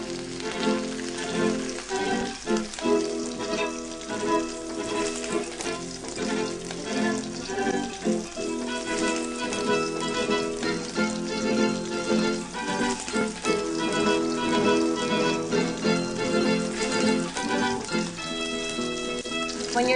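Flour-dusted trout fries in hot sunflower oil in a pan, a dense continuous sizzle and crackle that stays loud and close throughout, with faint kitchen sounds mixed in.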